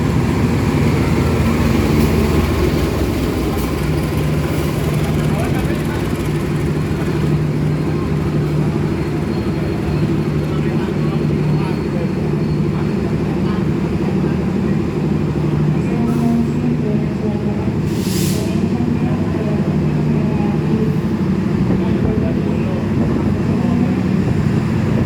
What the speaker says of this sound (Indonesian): Yang masuk di jalur 4 itu adalah kereta api Bengawan